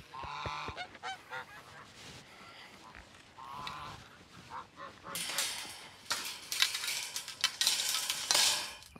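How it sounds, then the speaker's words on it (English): Goslings call in a series of scattered honks and peeps, some near and fairly loud and others softer, with intermittent clattering noises mixed in. "There are the four goslings."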